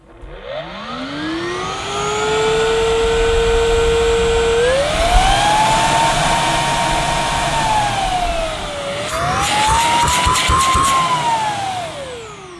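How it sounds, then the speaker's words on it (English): A Samsung Powerstick Pro VS8000 cordless vacuum starts up and runs on low power, its motor whine rising quickly to a loud, steady tone that dips and climbs again, with clattering near the end. "So to turn the cleaner on, you just press the button and it'll go into the low power by default."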